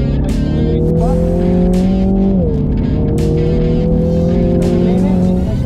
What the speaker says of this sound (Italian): Qua frena il più dritto possibile, scala una marcia, aspetta un po' il tornante